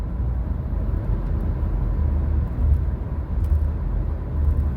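Inside a moving car, a steady low road and engine rumble fills the cabin, continuous and moderately loud with slight swells, and no voices are heard.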